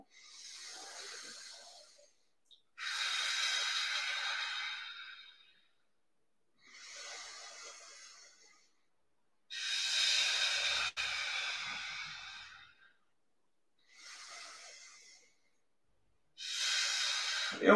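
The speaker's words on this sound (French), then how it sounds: "On va commencer par 3 grandes respirations." Slow, deep breaths are taken during a back exercise session: long hissing inhales and exhales alternate with silent pauses, close to the microphone and unaccompanied by talk.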